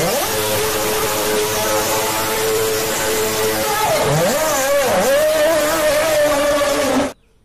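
A toy F1 race car's engine sound plays as a buzzy, steady whine, rising and dipping in pitch midway, loud and close, before stopping abruptly.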